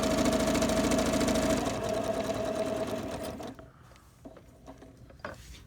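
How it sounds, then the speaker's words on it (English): A sewing machine stitches a cloth face mask in a steady, fast mechanical whir lasting about three seconds, then stops, leaving soft handling clicks and fabric sounds. "All right, now I'm going to sew here."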